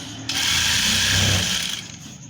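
A sewing machine stitches just below elastic in a trouser waistband. A loud, close burst of motor whirring lasts about a second and a half, then tapers off.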